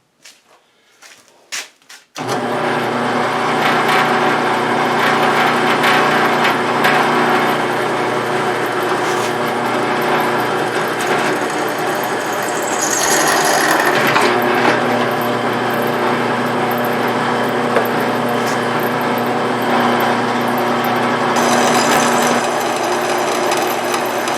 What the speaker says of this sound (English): Okay, we're ready to drill our holes here.